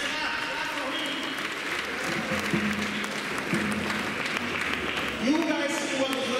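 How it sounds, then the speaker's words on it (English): A school audience of parents and students claps for a guest at a tenth anniversary Mass, a dense continuous patter of applause with voices talking and calling over it throughout. "Parents, please clap. Students, clap for me."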